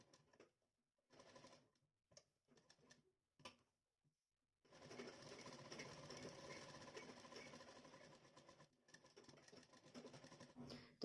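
A sewing machine stitches a boat-neck blouse, first in a few short faint bursts separated by silence, then in a longer steady whirring run, pausing briefly before starting again.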